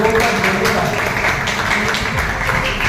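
Loud applause from a student audience at a college farewell program in Ballia, a dense wash of clapping mixed with crowd voices running steadily throughout.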